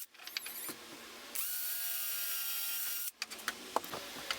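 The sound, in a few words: driving screws into plywood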